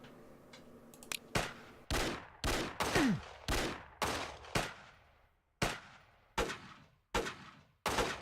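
Gunfire in the video game Bounty Train: about a dozen loud, sharp shots spaced roughly half a second to a second apart, each with a short decaying tail, mostly alone with little else underneath.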